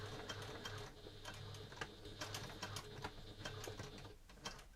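Sewing machine stitching a curved construction seam on a coin purse, running slowly in a steady rapid needle patter with a low motor hum, close and alone.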